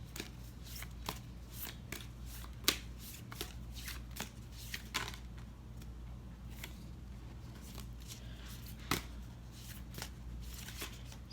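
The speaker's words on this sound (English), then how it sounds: "when I shuffle, I shuffle until a card flies out" Repeated soft riffling and slapping of oracle cards being shuffled by hand, an irregular run of crisp taps and flutters, close and quiet.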